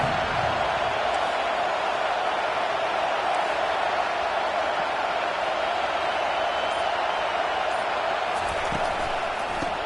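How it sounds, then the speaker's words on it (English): A stadium crowd in the NCAA 25 college football video game, Clemson vs NC State, roars as one constant, loud wash of cheering that holds without letup. "How about this crowd rattling the rafters and trying to help their defense?"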